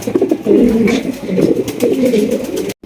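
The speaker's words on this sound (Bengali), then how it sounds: "এখানে রয়েছে গেরে বা লাউরি কবুতর মাশাল্লাহ একদম বিগ সাইজের" Large Lahori pigeons at a pigeon sale coo close by in repeated, rolling low calls with brief pauses between them.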